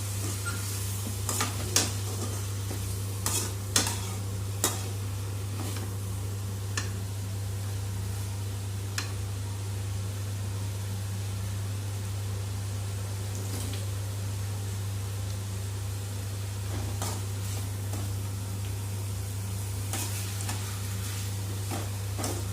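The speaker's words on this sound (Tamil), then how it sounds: "தக்காளி போட்டு நல்லா வதக்கணும் அடி பிடிக்காமல் வதக்கணும்" Tomatoes sautéing in a pan for prawn gravy, a quiet continuous sizzle with occasional spoon scrapes and clicks against the pan over a low steady hum.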